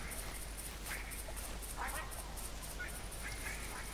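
Ducks quack and honk in a marsh in theHunter, several calls spaced irregularly, fairly faint beneath a steady hiss of wind and ambient noise.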